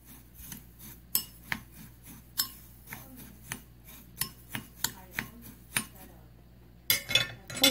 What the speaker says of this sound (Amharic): እና ቡናውን ከስኳሩ ጋር በደንብ አድርጌ ደባልቀዋለሁ።